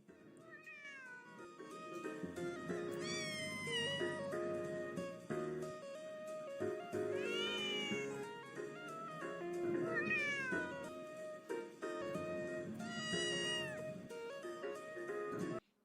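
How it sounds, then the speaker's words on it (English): Cat meow sound effects repeat in a series of drawn-out, rising and falling meows with overlapping cries, fairly clear and continuous, with no talking. "I enjoy my little cat meow sounds that Eli made for me"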